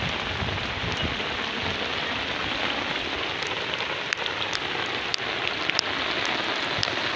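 Heavy rain pouring onto farm fields and a road, a dense, steady hiss of drops with occasional sharper splashes close by, no voices.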